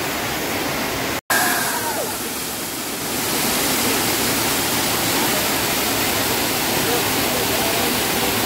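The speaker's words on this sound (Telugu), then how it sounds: "ఇదే వాటర్ ఫాల్స్. చాలా బ్యూటిఫుల్." Perikanal waterfall in Munnar roaring steadily as a broad, continuous rush of falling water, loud and close, with a brief dropout near the start and no talk.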